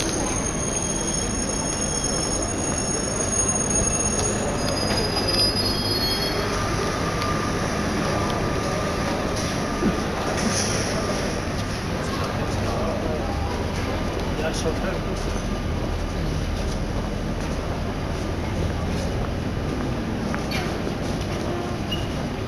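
An RER train on lines A and B at the Châtelet-Les Halles station platform, with a continuous loud rumble, intermittent wheel squeals and a hum filling the underground station.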